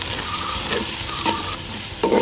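Three-quarters of a kilo of onions frying in hot coconut oil for a fish curry, a steady loud sizzle with occasional scraping stirs, no voices.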